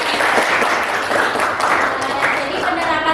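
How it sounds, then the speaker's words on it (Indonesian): Applause fills a classroom: a steady, dense patter of many hands clapping together for a few seconds, with voices mixed in beneath it. "Tepuk tangan."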